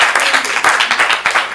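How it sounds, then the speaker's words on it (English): Audience applause at a comedy improv show: loud, close, continuous clapping from a crowd, fairly dense and energetic, with faint voices mixed into it. "Give him some applause."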